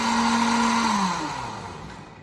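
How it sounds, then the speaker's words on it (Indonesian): A kitchen blender whirs while making apple juice, a loud steady motor whine that starts high and then drops in pitch and fades slightly as the load changes, with no talking. "Turn on the blender."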